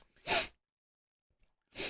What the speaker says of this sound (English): I'm about to sneeze, I think.